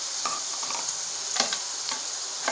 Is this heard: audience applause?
no